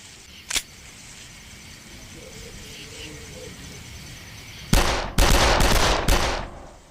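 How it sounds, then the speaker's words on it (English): Gunfire from the first-person shooter Darkest of Days: several loud, close shots crack in a tight cluster near the end, after one isolated shot early on and a stretch of quiet ambient game sound. "For a quick reload, fire again when it flashes green."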